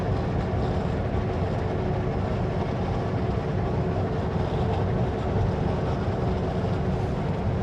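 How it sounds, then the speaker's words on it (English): A long coal train rumbles past in a steady, unbroken low roar of rolling wagons at moderate distance, with no voices over it. "The coal train's by."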